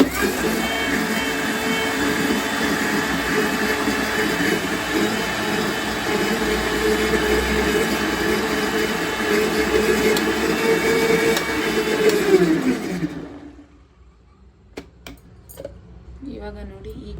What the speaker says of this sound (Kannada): ನೀರನ್ನ ಆ್ಯಡ್ ಮಾಡಿಕೊಂಡು ಸ್ವಲ್ಪ ತೆಳುವಾಗಿ ರುಬ್ಕೊಳ್ಳೋಣ